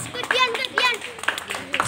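An audience clapping hands at a school graduation trophy ceremony, a few sharp, evenly spaced claps mixed with a voice talking over them.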